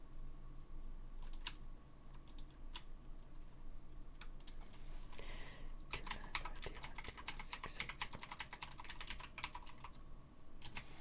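Typing on a computer keyboard, quiet close-up clicking in irregular bursts, sparse at first and then a faster, denser run of keystrokes, with no talking.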